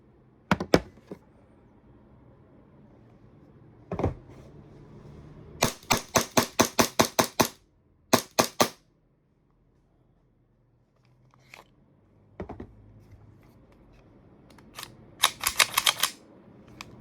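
An Army Armament R603 Staccato P pistol, made in China, fires sharp cracking shots, a few singles and doubles mixed with quick strings of rapid fire, with quiet gaps between volleys and no talking.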